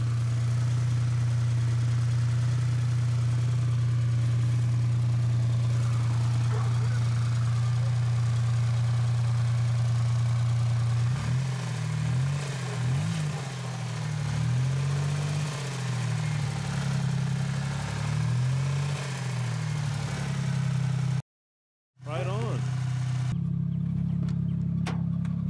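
A Geo Metro engine idles steadily and close up, a deep constant drone running unbroken throughout, with a short cut near the end before the idle resumes.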